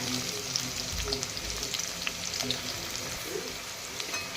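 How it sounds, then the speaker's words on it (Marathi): Onion sautéing in oil in a pan, a dense, even sizzle with light stirring and a few soft knocks, continuous and close. "कांदा छान परतून घेऊ"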